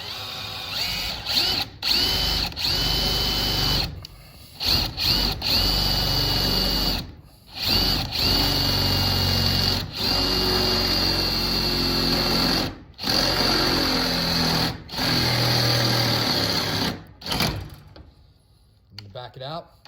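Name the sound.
power drill drilling through metal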